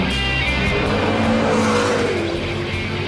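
A McLaren MP4-12C sports car drives hard on track, its turbocharged engine roaring loudly and continuously with shifting pitch and some tire noise, close and constant throughout.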